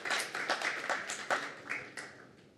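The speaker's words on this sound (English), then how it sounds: "I wanted to make sure I got all the claps in." A small audience claps at a book event at Politics and Prose, a short scattered burst of hand claps, fairly close, tapering off within a few seconds.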